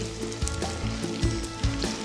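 Rhubarb sizzles in a buttered skillet, a soft steady hiss close up with a few low bumps and light stirring knocks spaced through it.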